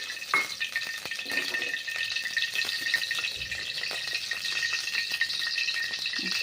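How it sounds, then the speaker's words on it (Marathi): Mustard seeds frying in a few spoonfuls of hot oil for upma, a continuous bright crackling sizzle with light stirring sounds throughout. "ह्याच्यामध्ये मी मोहरी टाकलेली आहे"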